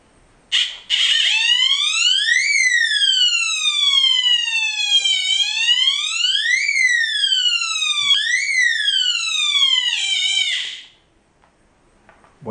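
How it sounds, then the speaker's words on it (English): A water moisture sensor detector alarm shrills alone, loud and near, with a high electronic tone that sweeps up and down in a continuous siren-like wail for about ten seconds before cutting off. "Wipe it off and it stops the noise, stops the alarm."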